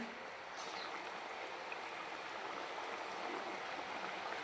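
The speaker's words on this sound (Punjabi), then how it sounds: "ਹੁਣ ਆਪਾਂ ਇਹਦੇ ਵਿੱਚ ਆਪਣੀਆਂ ਮੱਠੀਆਂ ਨੇ ਜਿਹੜੀਆਂ ਪਾ ਦਾਂਗੇ ਆਪਾਂ ਸਿਮ ਤੇ ਕਰਕੇ ਪਕਾਵਾਂਗੇ" Wheat flour and jaggery mathiyan frying in hot oil over a low flame, a faint, steady broadband sizzle and hiss running throughout with no talking.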